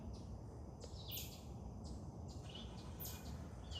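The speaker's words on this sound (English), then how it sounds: "But today I only hear the birds" Birds call in morning woods, with a few short, high chirps spaced a second or so apart over a steady, fairly loud background rush.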